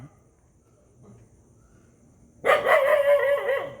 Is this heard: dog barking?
yes